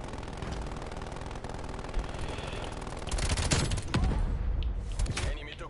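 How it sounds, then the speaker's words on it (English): Hand cannon gunfire in a video game firefight: dense, rapid bursts of shots swell in the second half over a constant rumble of battle noise. "Somebody's got a hand cannon."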